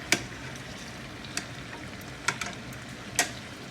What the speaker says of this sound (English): See, guys, they're frying nice.